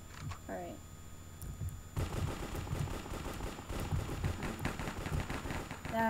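Rapid gunfire in a Minecraft cops and robbers minigame, a dense continuous rattle of shots with game sounds and a voice faintly underneath.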